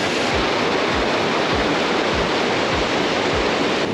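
A waterfall in Ella, Sri Lanka, pours as a loud, steady broadband roar of rushing water, close and continuous throughout, with no voices over it.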